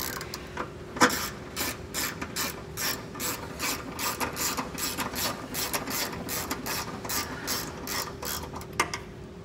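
A ratchet snugging 10 mm bolts on rear muffler hangers of a 2023 Toyota Camry during a trailer hitch install, a fast regular clicking train of about twenty clicks, close and clear.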